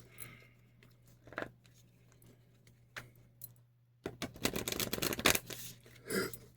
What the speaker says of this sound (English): as I'm shuffling, let's give thanks